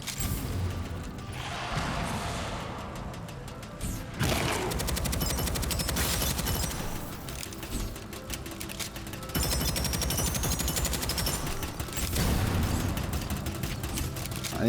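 Rapid gunfire bursts and sharp critical-hit impacts from the sci-fi roguelike shooter Deadzone: Rogue, repeated volleys and crashes filling the stretch, loud and dense with brief gaps.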